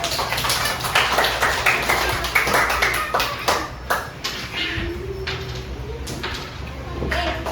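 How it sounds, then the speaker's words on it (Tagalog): Irregular clapping in a Grade 1 reading and literacy class, uneven bursts of hand claps in a small room, loud and close, with gaps and a few light taps between them. "Tingnan nga po na palakpak si Kayden."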